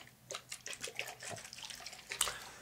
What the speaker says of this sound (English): use some of our mint mineral infused spring water to dampen your hair